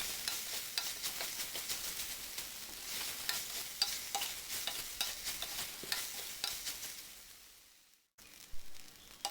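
Meal maker masala fried and stirred in a pan, a continuous close sizzle broken by frequent rhythmic spatula scrapes, moderately loud, briefly dropping away near the end before resuming, with no voices.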